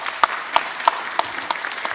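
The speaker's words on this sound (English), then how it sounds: "Give Giselle a round of applause." At a Philadelphia MLK Day of Service news conference, a small group claps for a city representative, a sparse round of distinct, evenly spaced claps over a low room murmur.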